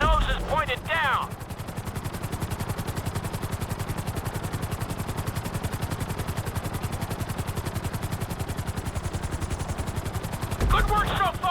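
Helicopter flying in Grand Theft Auto V, a steady, loud rotor chop thumping rapidly and evenly throughout, with brief in-game voice bursts at the start and end.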